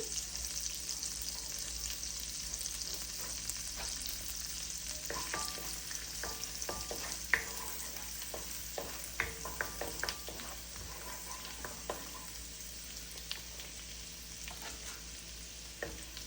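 Chopped garlic frying in butter in a pan for pasta, giving a steady soft sizzle with scattered crackles and occasional stirring clicks, close and moderately quiet, with no talk.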